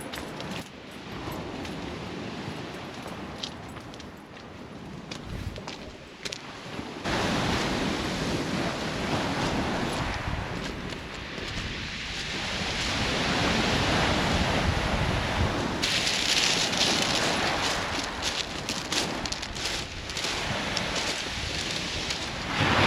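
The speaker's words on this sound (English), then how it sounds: "you're going to hear a lot of background wind" Strong gusting wind with steady surf on a breezy, sunny beach, a loud continuous roar that buffets the microphone and swells heavier partway through.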